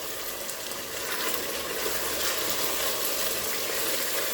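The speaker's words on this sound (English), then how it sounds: "You want to fry it till all the water has dried up." Efo Riro vegetable soup ingredients fry in a pot on medium heat as the water cooks off, giving a steady, fairly quiet broadband sizzle with no talk.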